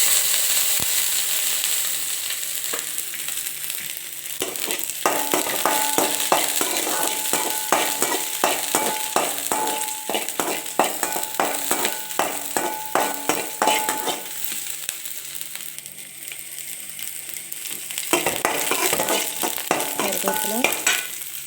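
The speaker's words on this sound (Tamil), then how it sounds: "எண்ணெய் சூடாயிடுச்சு, கடுகு போடுறேன்." Mustard seeds and small onions frying in hot oil for a banana-flower stir-fry, a continuous loud sizzle with crackling seed pops and occasional stirring scrapes, close up and without talk.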